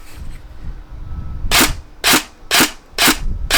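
Tokyo Marui NGRS MP5A5 airsoft gun, a stock electric gun with a MOSFET, fires five sharp, loud shots in quick succession at a steady rapid trigger rhythm after a short lull of background noise.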